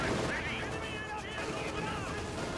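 Dense, continuous battle noise from Company of Heroes 2, with sniper and tank shots among steady gunfire and explosions, filling the whole stretch at a constant loud level while a commentator talks over it.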